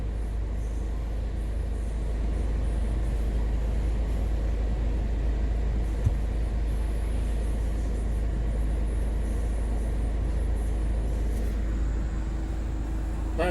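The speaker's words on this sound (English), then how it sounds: "So if you can see, the wheels are spinning now." A Hyundai Santa Fe stuck off-road with its wheels spinning, giving a steady, loud, droning roar of engine and tyre noise that holds unchanged for the whole stretch, with no talking.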